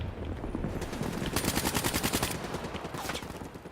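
Rapid automatic gunfire from Call of Duty Black Ops 3 plays on a PS4. A dense stream of shots is heard with several faster bursts, loud and close, with no talking.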